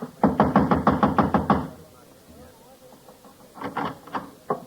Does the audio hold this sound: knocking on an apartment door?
yes